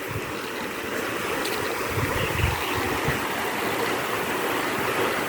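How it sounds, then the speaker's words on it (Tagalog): The Collantes River in Tanauan City rushes steadily, a continuous broadband wash of flowing water with low rumbling, close and loud throughout. "Ito yung mga boss, yung tinatawag na Colyantes ilog"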